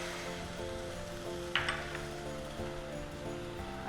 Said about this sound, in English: I'll now add soaked Chana dal.